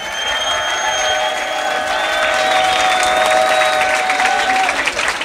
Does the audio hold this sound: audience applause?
yes